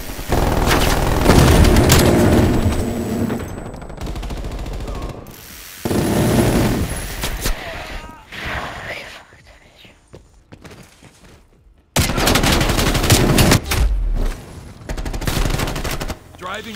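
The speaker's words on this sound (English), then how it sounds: "Death machine deployed." Death Machine minigun in Call of Duty Black Ops Cold War spins and fires in long, loud, rapid bursts separated by quieter gaps, with mechanical whirring between volleys.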